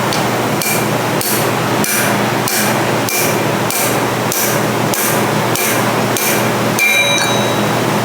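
Steady metallic hammer blows drive a bearing into a Twin Disc MG514C marine transmission, about eleven evenly spaced strikes over a constant noisy background.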